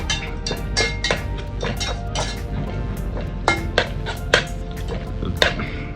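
Tomatoes sautéing in a pan, with a metal spoon or ladle repeatedly knocking and scraping the pan in an irregular stirring rhythm over a faint sizzle, close and clear without talk.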